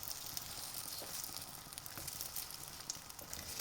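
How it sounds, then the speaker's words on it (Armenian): A breakfast dish fries in a pan with a soft, steady sizzle and scattered small crackles, faint and continuous throughout. "թողնում ենք մի փոքրիկ տապակվի"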